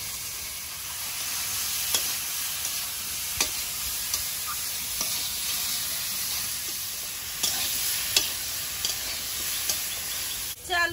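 Green banana and potato pieces frying in a kadai of oil with black cumin and green chillies: a steady close sizzle punctuated every second or two by scraping stirs, ending in a louder clatter, with no speech.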